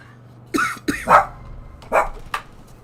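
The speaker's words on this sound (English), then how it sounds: "I need to see why the dog's growling." A dog in the video game Far Cry 5 gives a few short, rough growling bursts, close and fairly loud, spaced unevenly against a quiet background.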